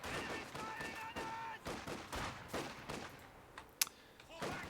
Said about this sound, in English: we're going to see some shots exchanged here momentarily